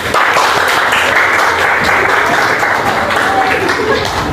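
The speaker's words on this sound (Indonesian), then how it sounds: "Oke, tepuk tangan semuanya, buka matanya." Students in a school counseling session on managing emotions and bullying break into loud, steady group clapping that fills the room for several seconds without a break.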